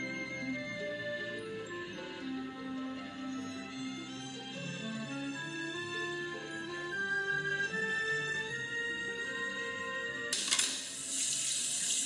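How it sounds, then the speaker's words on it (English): Tap water runs into a kitchen sink while dishes are washed during home cooking, a steady filling stream with shifting pitch as the basin fills, ending in a brief louder splash; no one speaks. "we're gonna come over here, do the dishes"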